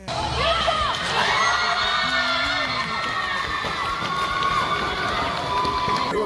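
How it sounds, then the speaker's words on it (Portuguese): Coaches and young athletes erupt in a loud championship shout at the final whistle of a youth sports tournament, a dense wall of cheering, whoops and children's yells that carries on steadily throughout. "então soltaram o grito de campeão"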